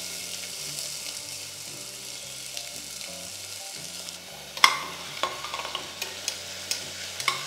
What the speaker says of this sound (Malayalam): സവോള ഇട്ട് നന്നായിട്ടൊന്ന് വഴറ്റുക.